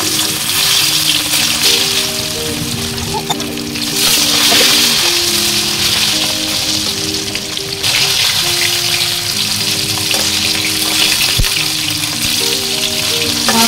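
Marinated bhangar fish frying in hot oil gives a steady, loud sizzle and crackle throughout, with a continuous tonal hum running underneath.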